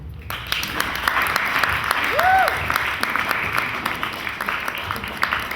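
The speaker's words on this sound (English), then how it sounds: "Please give him a very warm round of applause." An audience gives a warm round of applause as a speaker is introduced to the platform, sustained clapping throughout with a brief whistle-like tone rising in the middle.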